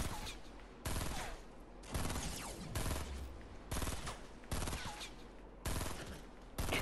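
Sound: gunfire in the video game Fortnite

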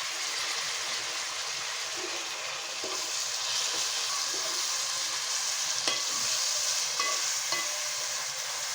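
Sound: onions frying in a pan for mutton paya soup

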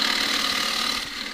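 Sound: half-inch spindle gouge shear-scraping green casuarina bowl on lathe

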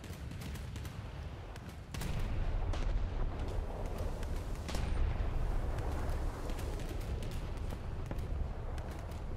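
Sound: battleship naval gunfire, video game War Thunder

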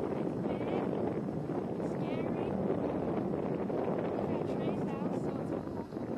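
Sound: wind blowing

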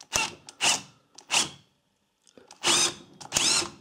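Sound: impact wrench removing KTM Duke 125 flywheel rotor nut

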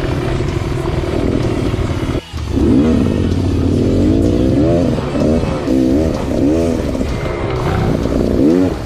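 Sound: Husqvarna 701 motorcycle riding

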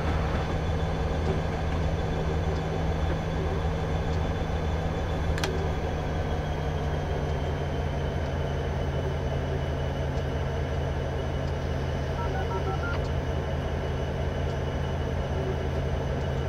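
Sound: Norfolk Southern train locomotives in Train Simulator 2015 video game

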